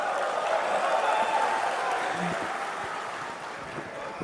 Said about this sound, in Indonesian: Kok tepuk tangannya agak kenceng